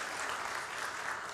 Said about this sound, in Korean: 박수 한번 줄까요?